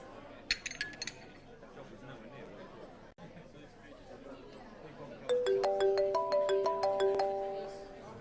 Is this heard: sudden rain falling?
no